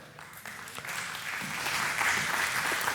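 Audience clapping during a church teaching session, starting faint and swelling into a fuller, steady round of applause from a room of listeners, moderately distant and without speech over it.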